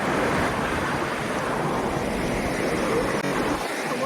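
Water rushes steadily at Devkund waterfall, a dense, continuous roar of falling water with a windy, surf-like hiss that stays loud and unbroken from start to finish.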